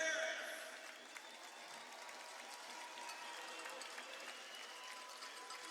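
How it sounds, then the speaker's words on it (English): Crowd at a hockey game in the Macon Centreplex giving a standing ovation, steady distant clapping that swells briefly at the start and then holds faint and even. "The folks here in the Macon Centreplex giving a round of applause and a standing ovation to those who have served our country"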